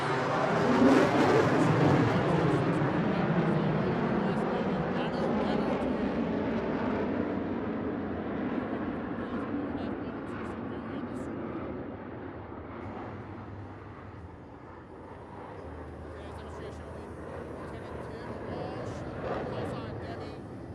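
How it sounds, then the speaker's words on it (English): A US Navy F-18 jet passes over during an outdoor fireworks celebration, its loud roar peaking early and then fading into a distant rumble while an announcer speaks over it. "They'll be flying the F-18 to the edge of his operating envelope."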